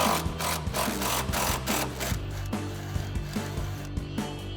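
An impact wrench fitted with a 21mm swivel socket works on a Mustang subframe mount bolt, giving a close, loud sustained buzzing rattle with repeated sharp hammering pulses and no talk.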